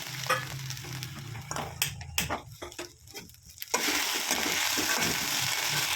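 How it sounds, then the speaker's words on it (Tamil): Cut okra goes into a kadai of hot oil: a few stirring scrapes and clatters come first, then a steady, even sizzle of frying takes over, close and without talk. "இப்போ கடாயில் கொஞ்சோண்டு ஆயில் ஊற்றியாச்சு. இப்போ நம்ம வந்து கட் பண்ணி வச்சிருக்கிற வெண்டைக்காயை போட்டுக்கலாம்."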